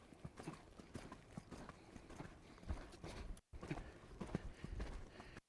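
A ridden horse clip-clops steadily through deep, soupy mud while briefly losing its balance, with close, continuous hoofbeats and squelching, muddy thuds.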